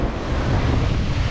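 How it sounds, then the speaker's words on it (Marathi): Rough sea waves break on the shore at Vengurla, a loud continuous roar of churning surf mixed with heavy wind buffeting the microphone, close and steady throughout, with no voices. "तर लाटा खूप जास्त आहेत"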